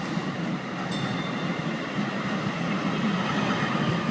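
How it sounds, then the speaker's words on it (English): A DART light rail train pulls into a station in Rowlett, giving a steady rolling rumble and rail noise throughout with a brief high squeal near the start, close by and continuous. "Here is the first scheduled train to downtown Rowlett."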